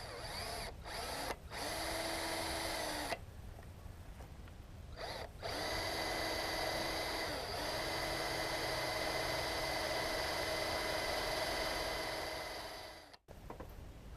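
A power drill bores and countersinks a screw hole for a GoPro suction mount, whining steadily in several bursts separated by short pauses, close and loud with no talking.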